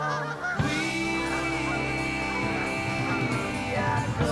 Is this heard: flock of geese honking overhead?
yes